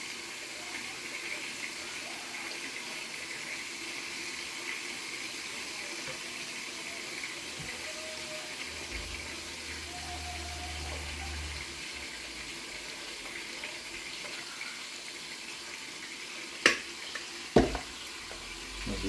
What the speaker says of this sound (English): now that our oil is ready, we're going down with our corn cake mix